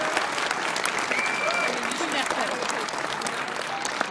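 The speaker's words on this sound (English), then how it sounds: "Give yourselves a round of applause." Volunteers applauding at a political rally in Reno, Nevada: sustained clapping from a crowd spread through the room, with a few voices calling out over the steady patter.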